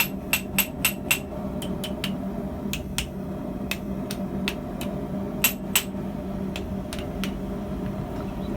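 Sharp metallic hammer strikes on thick sheet metal, forging a spoon, ring out in irregular bursts, some quick doubles, over a steady low background hum.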